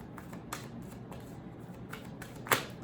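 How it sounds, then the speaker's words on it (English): Oracle cards are shuffled by hand, a faint, close papery riffle with a few sharper snaps and flicks, one crisp slap near the end, in a quiet room. "I'm gonna actually shuffle some more."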